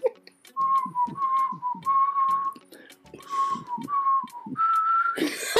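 A person whistles a bright, bouncy melody in short repeated phrases, clear and close, with soft rustling underneath and a burst of noise at the end.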